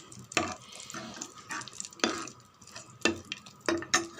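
Dried raisins sizzling in a pan while being stirred for rava kesari, irregular scraping and frying crackles in uneven bursts at close range, fairly quiet with no talking.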